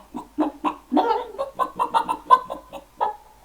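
Hen clucking in a Jack and the Beanstalk story, voiced by a storyteller imitating the bird: a run of about a dozen short, rhythmic clucks, close and fairly loud, with no other sound.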